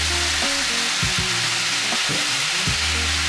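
Carrots poured with their juice into a hot pan, in a French chef's beef bourguignon, hiss in a steady loud sizzle, with a few clanks and scrapes of utensils against the pan, no talking.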